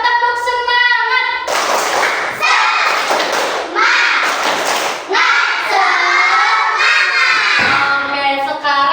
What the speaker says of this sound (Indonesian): kita harus pasti semangat, coba tepuk semangat